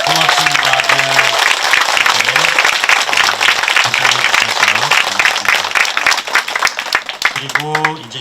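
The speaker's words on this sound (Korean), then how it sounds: "우리 큰 박수 한번 쳐주십시오" Big round of applause from the congregation at an outdoor Monday Mass held to pray for restoring the Saemangeum ecosystem. Steady clapping continues throughout, while a voice speaks over it.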